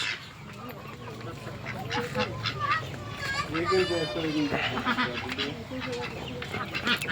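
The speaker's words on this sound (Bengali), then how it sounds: "এবং এই পাতি হাঁস" Domestic ducks and other poultry at a family's duck and chicken house in a rural yard, with honking and quacking calls scattered over steady outdoor background noise, close by and moderately loud.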